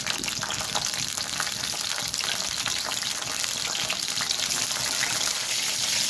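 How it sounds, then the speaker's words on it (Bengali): Eggplant pieces fry in hot mustard oil, giving a dense, loud, unbroken crackling sizzle close by that holds steady throughout. "তেলটা গরম হয়ে এলে বেগুনগুলো ভালো করে ভেজে নেব আর রান্নাটা কিন্তু সর্ষের তেল দিয়েই করতে হবে"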